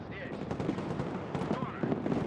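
Rapid machine gun fire crackles in the Broken Arrow video game during a tank assault, a dense stream of bursts mixed under a voice talking throughout.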